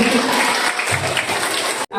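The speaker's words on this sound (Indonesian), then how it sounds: "Tepuk tangan ya." Applause from an audience at a school workshop fills the room loudly and steadily, with some voices mixed in, then cuts off briefly near the end.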